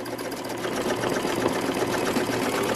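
A sewing machine runs fast and steadily, stitching a patch onto a pair of denim jeans. Its even, continuous whir holds at a constant level throughout, with no talking.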